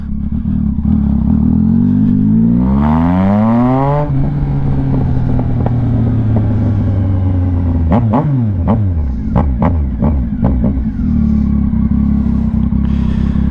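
A motorcycle engine idles loudly and close, revving up and down in swells, with a sharp burst of rapid revs and clatter partway through after a throttle-position-sensor recall repair.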